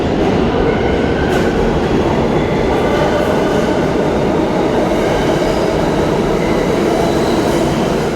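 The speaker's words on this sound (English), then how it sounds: "we got on the subway straight down to 28th Street" New York City subway train ride heard from inside the car: a loud, steady rumble and roar of wheels on track with faint metallic squeals, continuous and close with no talking.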